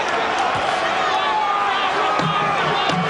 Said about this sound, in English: The crowd is on their feet here at the convention hall.